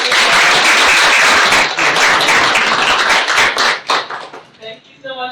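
Audience applauding after a business talk on being a business owner in Israel: loud, dense clapping from a room of listeners that thins out toward the end, with scattered individual claps and a voice at the close.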